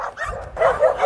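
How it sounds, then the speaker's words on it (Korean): Small puppies bark and whimper in short yips, close and fairly loud, at a shelter for 81 rescued stray dogs in Haenam, with a low rumble of background activity. "강아지가 있습니다."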